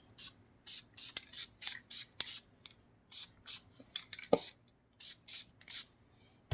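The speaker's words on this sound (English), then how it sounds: "So we need to spray black first on these" Repeated short bursts of black spray paint hissing from a can, about a dozen in quick succession with brief pauses between, close and fairly quiet, with a faint tap or two.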